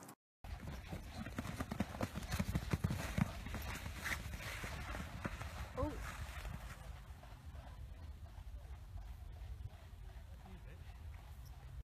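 Horse hooves clip-clopping on the ground as the horse steps backwards during groundwork training, a series of soft irregular thuds heard up close, busier early and fading to quieter background later.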